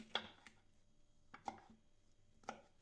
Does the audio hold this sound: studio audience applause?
no